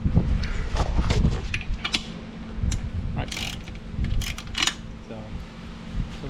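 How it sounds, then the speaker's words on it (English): Ratcheting clicks and clanks of a socket wrench breaking loose two bolts on the power seat rail of a 2003-2007 Honda Accord, close and mechanical, with talk mixed in over the work. "So we use the socket wrench to break these 2 bolts."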